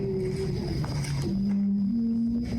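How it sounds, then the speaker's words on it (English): A low, steady horn-like tone drones through a constant rumbling, watery background, shifting slightly in pitch partway through, with no voices. "Is that a horn?"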